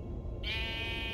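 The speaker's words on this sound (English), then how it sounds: "A sheep?" A sheep bleats in the Minecraft Story Mode video game, a single drawn-out, wavering cry that starts partway through and carries to the end, clear and close over a low background hum.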